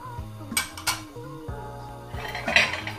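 A metal utensil scrapes and clinks against a bowl while vinegar and sugar are mixed, giving a few close, sharp clinks and brief scrapes with no talking.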